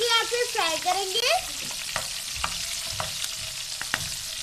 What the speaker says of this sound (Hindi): इसे हम हल्की आंच पे फ्राई करेंगे।